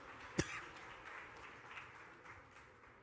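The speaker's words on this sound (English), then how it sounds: "Let's give these guys a round of applause." Audience applause at a panel event: a sharp single clap lands near the start, then a steady wash of clapping fills the room at moderate volume with no talking over it.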